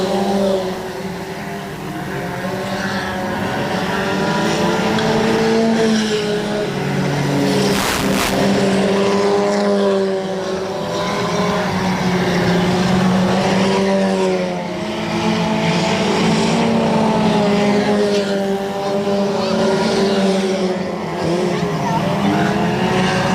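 Dirt track race cars roar continuously around Electric City Speedway in Butler, Missouri, a dense, loud layered engine drone with rising and falling whines as cars pass, and a commentator speaking over it.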